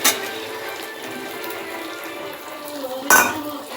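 Two eggs go into a pan of potato curry, marked by a short clatter of pan and utensil near the end over steady low kitchen clinks and a faint sizzle.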